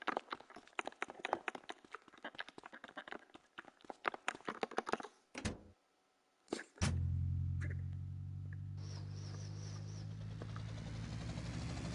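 Sea Sparrow helicopter from Grand Theft Auto: Vice City, its engine starting up after several seconds of clicking game sounds, then a steady loud rotor drone with a bright whine on top that carries on to the end.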